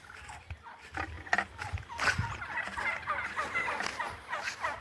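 Turkeys on a farm gobbling, a series of rapid, warbling calls rising and falling, with some scuffling and background noise as they react to a man waving a stick.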